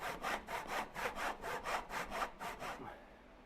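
A back saw with a rigid spine cuts through wood in about ten even push-and-pull strokes, each a raspy burst, close and alone before the sawing stops.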